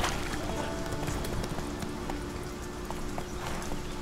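The horse Roach gallops in The Witcher 3: Wild Hunt, its hooves beating a fast, steady rhythm close up over game ambience with no talk.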